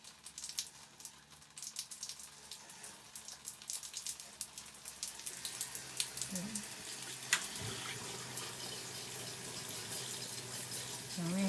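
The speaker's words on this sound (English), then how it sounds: "And we have hot water flow." Hot water running from a camp water heater pump at an offroad campsite, a steady watery splashing like a tap filling a sink, fairly close and soft, growing slightly louder toward the end.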